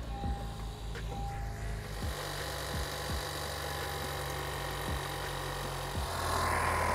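A Honda Civic 10th generation 1.5L turbo engine idles with a steady low rumble and hum, close by, continuing throughout without any talking.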